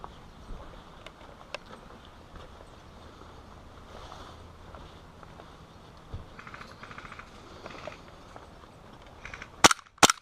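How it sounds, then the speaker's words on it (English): A pistol in a free-for-all shooting game fires repeatedly in small, distant-sounding pops scattered over ten seconds, ending in a couple of louder close shots near the end. "There you can hear his gun firing repeatedly."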